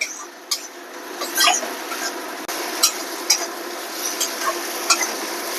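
A spoon stirs poppy seed paste in a pan over the gas, giving soft scraping and light clinking strokes at an uneven pace against a steady background hiss.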